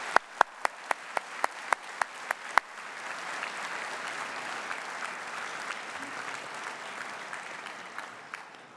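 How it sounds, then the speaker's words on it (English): Several sharp, isolated claps ring out before a graduation ceremony audience at a university bursts into sustained, even applause that continues at a steady level to the end. "please join me in a round of applause to thank all those people sitting behind you"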